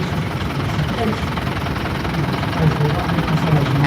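A C350 tractor engine runs steadily nearby at a tractor parade, a dense low rumble and knocking hum that holds constant, swelling slightly toward the end.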